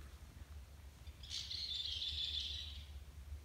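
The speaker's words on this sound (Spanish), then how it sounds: "justo alcanzamos a escuchar el sonido de los pájaros" A lone bird in the forested hills around a rural estate sings a clear, high chirping trill lasting about a second and a half, standing out against a quiet, low background rumble.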